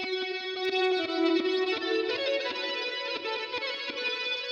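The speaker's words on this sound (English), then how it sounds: "it has this weird like glitch effect that's blended in the background" A glitchy processed texture from the Output Portal plugin sits behind a guitar line, with sustained distorted tones, stuttering chorus-like modulation and scattered digital clicks, moderately quiet throughout.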